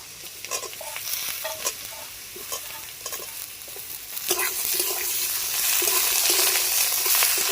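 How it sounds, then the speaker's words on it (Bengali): Potato and brinjal frying in mustard oil, stirred with a spoon: scraping stir strokes and light crackling at first, then a louder continuous sizzle building in the second half, close up and without speech. "আলুটা আমার কিছুটা ভাজা হয়ে গেছে এবারে দিয়ে দেবো এর মধ্যে বেগুন"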